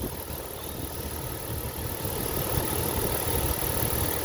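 A 1998 Jeep Wrangler Sport TJ with a fuel-injected 4-liter inline-six idles as a steady, fairly quiet low rumble with a faint mechanical hum and light rattle, unchanging throughout, with no talk.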